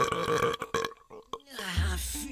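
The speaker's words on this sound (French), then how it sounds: "Oh, un vrai rot de troll." A troll girl lets out a long, loud, rumbling burp at close range, ending in a low guttural drone, with brief bursts of speech-like vocal sound before it.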